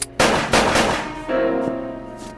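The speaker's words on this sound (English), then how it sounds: "I fired right at you." A .45 caliber automatic pistol fires in a radio drama: a few sharp, loud shots in quick succession, followed by a ringing, lingering tail.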